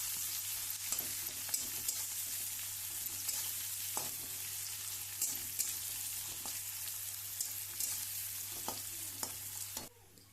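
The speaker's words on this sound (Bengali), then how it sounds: "এবার পেঁয়াজটাকে হালকা বাদামি করে ভেজে নিতে হবে" Onions fry in oil until light brown for a chicken kosha curry, a soft continuous sizzle with scattered crackles and light stirring, ending abruptly just before the close.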